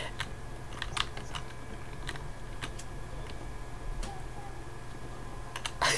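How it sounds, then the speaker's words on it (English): Scattered clicks of typing on a computer keyboard, irregular and fairly soft, over a steady low room hum, with a louder burst of keystrokes near the end. "I'm trying to type here."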